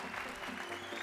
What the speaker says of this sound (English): let's give a big, big, big round of applause for all of our entrants today